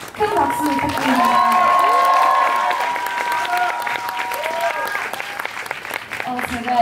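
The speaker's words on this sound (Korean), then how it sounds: "큰 박수 부탁드립니다." At a concert encore, audience clapping and cheering run under loud sustained tonal music or vocals, with the crowd noise filling the background throughout.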